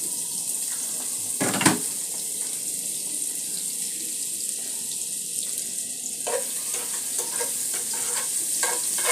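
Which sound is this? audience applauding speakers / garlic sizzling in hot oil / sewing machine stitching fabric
garlic sizzling in hot oil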